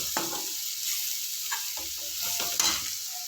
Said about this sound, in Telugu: దీన్ని బాగా మిక్స్ చేసుకోవాలండి